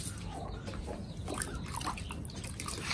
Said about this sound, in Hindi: तो ये साफ पानी जो है भाई ये इनको डालते हैं अब